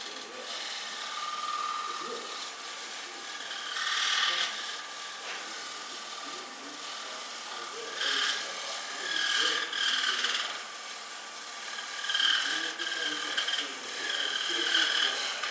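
A hand file rasps across a wooden piece being smoothed, with repeated scraping strokes in uneven bursts, some louder and closer than others, against a quiet background.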